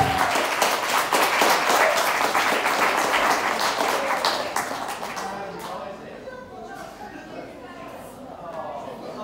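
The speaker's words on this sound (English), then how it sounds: "Please give a round of applause to Tiana Zeri." Audience applause for a performer at an evening show, dense clapping loud at first and thinning out after about five seconds, with crowd chatter underneath.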